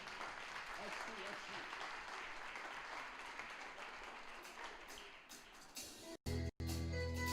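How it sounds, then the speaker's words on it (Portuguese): A church congregation claps together during a worship service, a dense, steady wash of applause that carries on for several seconds before breaking off in a couple of short gaps near the end. "Se você pode, aplauda o Senhor mais uma vez."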